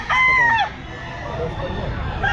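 A rooster at a pet market, a quality fighting cock, gives one loud close crow over the first half second, then the clip settles into busy market noise with more faint fowl sounds near the end.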